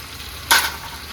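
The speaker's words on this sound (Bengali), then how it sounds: "এখানে আমি আলুগুলো ফ্রাই করে দিচ্ছি" A brief, sharp sizzle as something hits hot oil, where potatoes fry with bay leaves and whole cumin, rising suddenly and fading within a moment.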